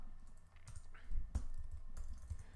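Keys pressed on a computer keyboard during Python coding, a few soft, close clicks spread over a couple of seconds against a quiet room background.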